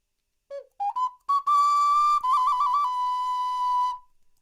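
Whistled imitation of a sparrow's call: a few short rising chirps, then a sustained clear whistle with quick warbling trills, close, bright and loud with no talking over it.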